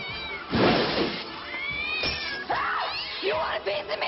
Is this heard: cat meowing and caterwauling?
yes